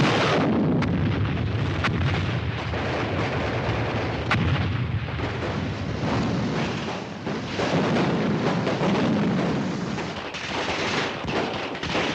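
Heavy artillery fire booms through a 1953 paratrooper war film, a dense, loud, continuous barrage of blasts and rumbling explosions with sharp cracks of gunfire mixed in.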